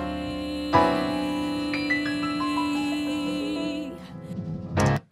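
A sung vocal line, pitch-corrected in Melodyne with the pitch drift reduced, holds steady sustained notes over soft backing, then ends with a brief louder burst near the close.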